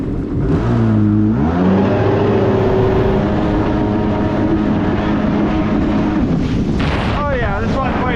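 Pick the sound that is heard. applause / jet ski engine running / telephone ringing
jet ski engine running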